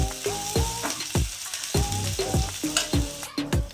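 Big onions sautéing in a pan over medium heat at home, with a steady sizzle broken by repeated scraping, stirring strokes of a utensil against the pan, fairly close and with no talking.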